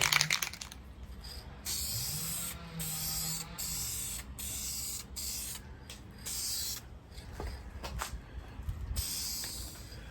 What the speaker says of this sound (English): I'm gonna just clear coat it with this spray clear coat